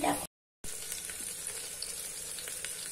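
Hot tempering (phodni) of oil and spices poured onto cooked dal with onions, tomatoes and chillies gives a steady close sizzle after a brief cut, continuing evenly with no one talking.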